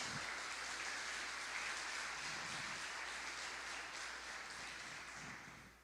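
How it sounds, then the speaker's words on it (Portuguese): A church congregation claps together in a dense, steady wash of applause that sounds faint and distant, then tapers off at the end. "Você pode aplaudir a Ele nessa noite"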